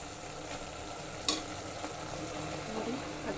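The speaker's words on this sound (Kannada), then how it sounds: "ಹಸಿ ಬಟಾಣಿ ಹಾಕ್ಕೊತಿದ್ದೀನಿ" Fresh green peas drop into a tomato masala frying in a pan, giving a soft steady sizzle with a sharp clatter as they land and light scraping as they are stirred in.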